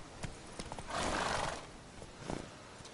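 Hooves of Roach, a horse in The Witcher 3, clip-clop in a steady trot with a whinny mid-way, fairly close and quiet, with no talking.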